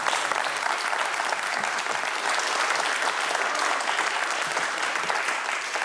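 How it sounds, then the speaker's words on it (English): An audience at a League of Women Voters candidate forum applauds the candidates, giving sustained, dense clapping that holds at an even level for several seconds with a faint crowd murmur. "Let's give them a round of applause."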